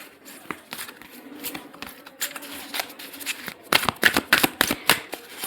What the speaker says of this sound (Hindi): इतने कार्ड्स मैं शफल करती हूँ वही कार्ड्स आते हैं मोस्ट ऑफ द टाइम